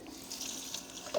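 Tap water running from a faucet in Detroit, a steady soft hiss of flow lasting about a second with a slight rise in splash near the end.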